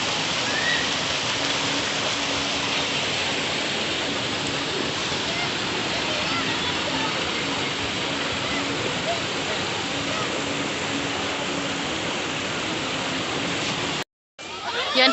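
Steady broadband rush of river water flowing at a busy bathing spot dammed into a pool-like swimming area, loud and continuous for about fourteen seconds before a brief dropout.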